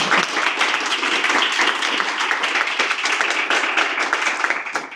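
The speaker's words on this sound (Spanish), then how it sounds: "Un aplauso para ellas, por favor." An audience at a literary gathering applauds the speakers, sustained dense clapping from many hands filling the room and holding steady throughout.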